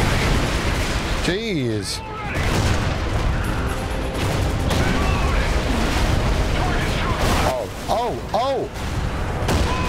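Explosions blowing up turrets in Call of Duty Ghosts, a dense stretch of booming blasts and battle noise with a loud rumbling detonation near the middle, while a man reacts briefly and other voices and tonal game sounds play over the din.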